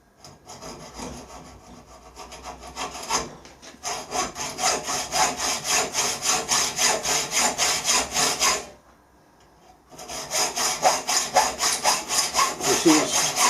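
Hacksaw cutting by hand through thick mild steel, close and loud, with steady rhythmic back-and-forth strokes, a short pause near the middle, then more sawing.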